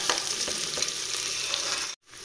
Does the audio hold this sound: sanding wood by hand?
no